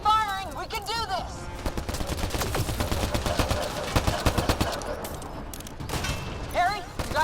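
Rapid bursts of gunfire in Mass Effect Andromeda crackle in dense repeated volleys through the middle, with shouting voices before and after the shooting.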